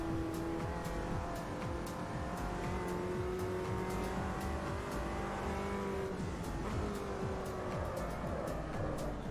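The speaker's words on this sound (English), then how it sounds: "You have your engine sound turned out. Oh, I'll turn it up, there you go." Race car engine from the Automobilista 2 sim racing game roars steadily throughout, with repeated revving and gear shifts, a few tire squeals and other cars passing, loud and continuous with no talk.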